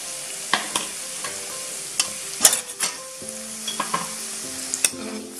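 Spices such as asafoetida, turmeric and coriander-cumin powder stirred into hot oil with puffed rice for Kolhapuri bhadang, a soft steady sizzle broken by sharp spoon scrapes and clinks against the pan, close up with no talking.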